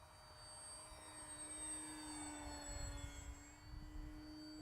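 An FMS Ranger 1220mm V2 RC plane on a 1550mAh 3S pack cruises steadily overhead, a continuous electric motor whine with a low rumble of wind, holding fairly level loudness throughout.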